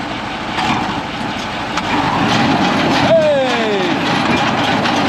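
Farm tractor engine chugs along in first gear, a steady low rumble up close while someone shouts briefly and a short whine sweeps downward midway.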